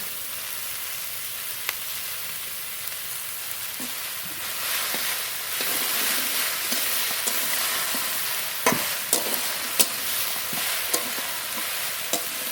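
Fried shrimp and slit green chilies go into a hot pan and are stirred, producing a constant sizzle with scattered, sharper utensil clicks and scrapes that grow busier toward the end, with no voices.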